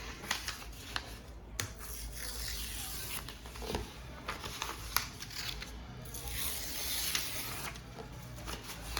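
Paper torn by hand in repeated pulls away from the body, a steady run of close, dry ripping and rubbing with sharper crackles scattered throughout, no voice over it.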